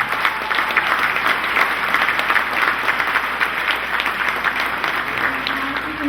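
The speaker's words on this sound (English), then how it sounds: "Please join me giving her a round of applause." Loud, steady applause from an audience at an awards event, a thick continuous wash of clapping that carries through the whole stretch with no talking on top.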